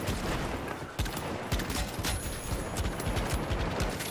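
Desert Eagle pistol fire in the shooter game The Finals, a rapid run of sharp close shots with crackling impacts, loud and steady throughout the short stretch.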